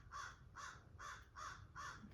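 Crows outside give five evenly spaced harsh caws, faint and somewhat distant, in a steady rhythm.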